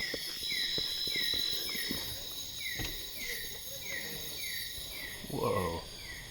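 Night insects in the Taman Negara jungle of Malaysia, a dense, steady chorus of crickets with repeated rhythmic chirp pulses over a continuous high buzz, plus a brief nearer rising call near the end.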